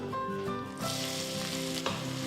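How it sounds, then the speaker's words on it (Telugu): Thinly sliced onion sautéing with dried red chillies and pepper, a steady close sizzle and crackle of frying that swells louder midway with occasional stirring scrapes, no voices. "సో ఉల్లిపాయలు వేసిన తర్వాత మంచి ఒక గోల్డెన్ కలర్ వచ్చే వరకు కొంచెం సాటే చేసుకోవాలి"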